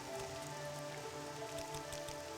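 Steady rain in the video game Morrowind with the Tamriel Rebuilt mod, a soft continuous patter on surfaces, faint and even throughout with no voices.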